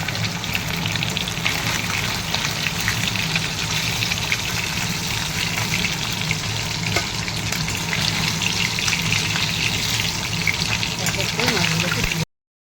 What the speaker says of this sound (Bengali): দেখো মাছগুলো এরকম হালকা করে ভাজতে হবে।